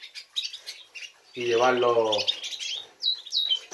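Small caged birds chirp and tweet in bright, rapid bursts, mixed with a person speaking Spanish nearby.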